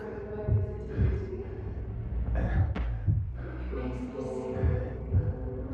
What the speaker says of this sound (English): I hear the thumping, like some kind of heartbeat.